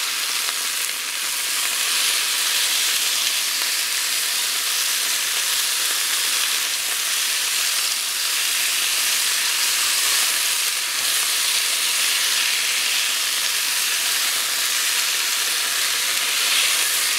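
Potatoes fry in vegetable oil in a pan, giving a steady, loud, close sizzle with crackling that runs unbroken throughout and has no talk over it.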